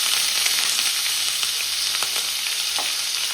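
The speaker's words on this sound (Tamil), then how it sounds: "நான் வெட்டின வெங்காயத்தை சேர்க்கிறேன்" Chopped onions hit hot oil already crackling with fennel and mustard seeds, giving a steady, loud sizzle with scattered pops and stirring scrapes throughout.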